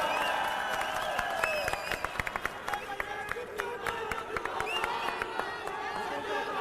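A political rally crowd welcoming Sanjay Singh with sharp, uneven clapping and scattered cheers, dense hand claps over a background of chatter and shouting voices.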